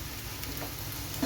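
Sliced okra dropped into a hot pan with onions, sizzling and frying steadily at close range for a brief moment, with a slight clatter near the end.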